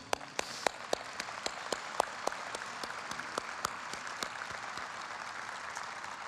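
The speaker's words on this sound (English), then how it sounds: "we give them a round of applause for their service" Applause at a philanthropy breakfast event, quiet and fairly distant, with sparse distinct hand claps standing out over a soft continuous clapping bed from the audience.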